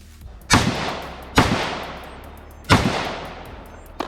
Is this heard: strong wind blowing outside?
no